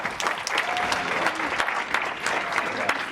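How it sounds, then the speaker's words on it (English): An audience at a community award ceremony breaks into sustained, dense applause, steady and fairly close, with faint voices mixed under the clapping. "How about a round of applause for Steve Bjork, huh, folks?"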